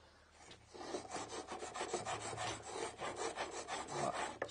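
A dado hand plane cuts a groove across wood while making drawers, giving a steady run of close, rasping strokes in a quick, even rhythm with no talk.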